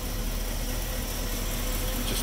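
A 1957 Cadillac Sedan Deville four-door hardtop idles steadily, a low even engine hum with a faint hiss running unbroken and alone through the short stretch.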